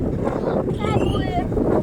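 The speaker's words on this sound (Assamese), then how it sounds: "এই ধুমুহা বতাহ আহিছে" Stormy wind gusts during a bicycle ride in rainy weather, a loud, constant buffeting roar against the microphone with voices faintly mixed in.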